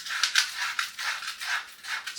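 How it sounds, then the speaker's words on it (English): Soft, rhythmic scratchy strokes of sandpaper rubbing back and forth on a chair to remove old glue, quiet and close with no voices. "A little sandpaper."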